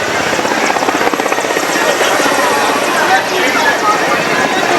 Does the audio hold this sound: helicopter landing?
yes